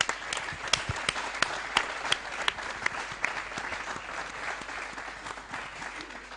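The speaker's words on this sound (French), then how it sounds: "Avec des applaudissements surtout." An audience at a live stage event in Tours applauds, with individual sharp claps standing out over a continuous, fairly close round of clapping that holds steady throughout.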